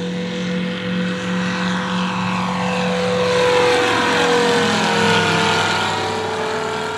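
An ultralight aircraft on the runway at Cambaie, its propeller engine droning loudly and steadily throughout, with a slowly shifting pitch as it moves along the strip.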